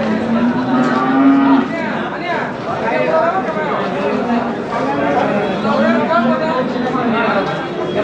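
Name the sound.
bulls at Chakan cattle market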